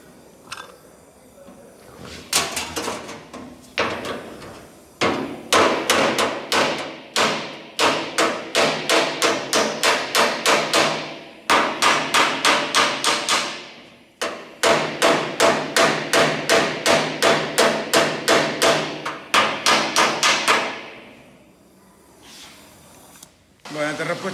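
A hammer strikes the body sheet metal of a 1962 Ford Falcon in fast, ringing runs of blows, pausing between bursts, loud and close, with a few voices in the background.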